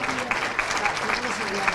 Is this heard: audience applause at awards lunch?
yes